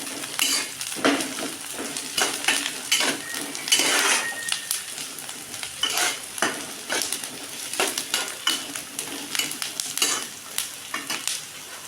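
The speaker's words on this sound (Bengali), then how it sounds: "একটু নাড়াচাড়া করে নেব" Flattened rice with chopped onions is stirred in a hot pan for a poha pulao, a spatula scraping in quick, steady strokes over a light sizzle, close and fairly loud throughout with no talking.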